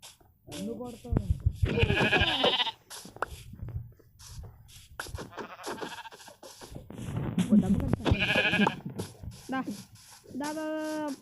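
A goat in the Minecraft video game bleats in several wavering cries, which stand out clearly between and over a player's talk.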